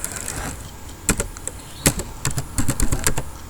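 Computer keyboard keys tapped in short irregular bursts while a math command for derivatives and integrals is entered, with crisp close clicks over a low steady background hum.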